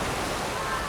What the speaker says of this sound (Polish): To co teraz słyszycie możliwe to szum fal, e, gdyż właśnie włączyły się te fale